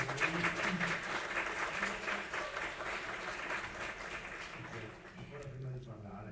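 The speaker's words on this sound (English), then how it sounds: "I'm getting an applause even before I start talking" An audience applauds at a jewelry design contest presentation, sustained clapping from a crowd throughout, with a voice speaking over the applause toward the end.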